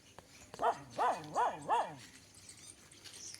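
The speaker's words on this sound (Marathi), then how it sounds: "आपल्या घराकडे ते भुकतात" Dogs barking near a house: four sharp, evenly spaced barks in quick succession at close range, followed by quiet background.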